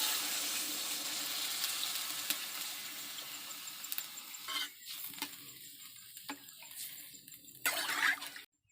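Water is poured into washed lentils in a cooking pot during village cooking, giving a steady rushing hiss for several seconds that breaks into scattered splashes and bubbling.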